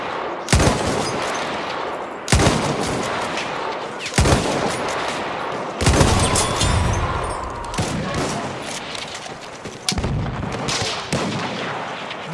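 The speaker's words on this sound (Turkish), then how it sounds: "Makinalı tüfek!" Machine gun fire in a video game: loud, dense bursts of automatic gunfire that repeat every couple of seconds, with booming impacts and heavy rumble continuing between the bursts.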